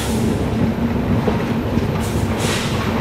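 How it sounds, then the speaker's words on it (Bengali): Sealdah–New Alipurduar Padatik Express standing or rolling slowly at Shamsi station, giving a steady, loud rail rumble with a low mechanical hum throughout and a faint hiss rising near the end, no voices. "ট্রেন আমাদের এসে পৌঁছেছে শামসি, 2 মিনিটের স্টপেজ।"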